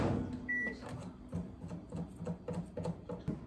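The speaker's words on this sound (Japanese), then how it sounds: "かけたまま電子レンジで" A microwave oven hums while heating a packaged cream pasta with its lid partly peeled back, a steady drone with a beep near the start and soft irregular ticking and popping throughout.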